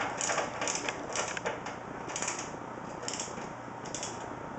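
A screw threading itself into a plastic PC case, giving a steady close ratcheting, clicking grind that pulses in short repeated bursts throughout with no talk.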